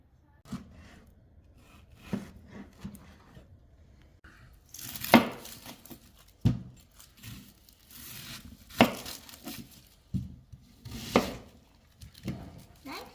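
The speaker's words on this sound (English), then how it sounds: "Yeah, but cutting those onions." Onions being chopped with a knife on a board while cooking outdoors, giving sharp, irregular cutting strokes, some close and loud, scattered over quiet background with occasional talk nearby.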